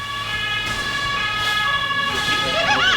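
An ambulance siren wails loudly and steadily throughout, its rising and falling tone sweeping up near the end, with faint road traffic underneath.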